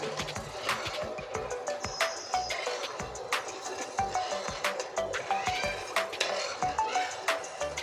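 A utensil stirs milk in a metal pot while making semolina kalojam sweets, giving repeated light scraping and clinking knocks in an irregular rhythm at close range, with faint bird chirps in the background.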